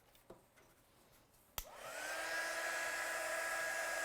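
A heat gun used for heat-setting embossing powder in card stamping starts up after a couple of soft clicks, then settles into a loud, steady whirring blow with a rising tone.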